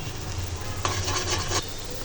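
Three eggs cook in a hot pan in a space cleared among vegetables for fried rice, giving a steady sizzle with a brief burst of brighter frying and stirring midway.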